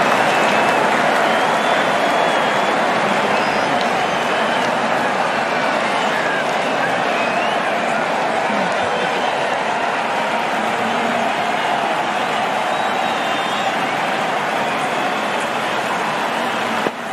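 Crowd at a New Zealand versus West Indies cricket match cheering and applauding continuously, a dense roar of claps and voices that stays loud throughout.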